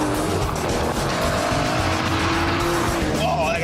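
An Aston Martin DBS V12 slides with its tail stepping out, tires squealing in a loud continuous wail over a roaring engine from close by, with rising squeal tones toward the end and a voice faintly in the mix.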